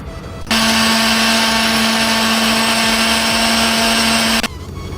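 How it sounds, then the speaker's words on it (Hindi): A kitchen blender grinds garlic cloves and tomatoes with a loud, close, steady high-pitched whir that starts abruptly, runs evenly for about four seconds, and then stops. "लहसुन की कलियां ये भी शामिल कर देंगे, और टमाटर को भी साथ ही शामिल कर देंगे। इसको हम ग्राइंड कर लेंगे।"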